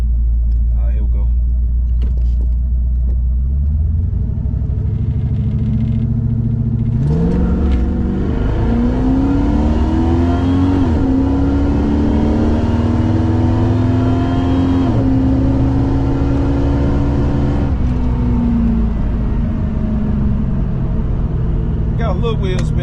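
A Buick Regal drag car on slicks launches with a little wheel spin, its engine rumbling loudly and then revving up through rising tones, with people talking over it.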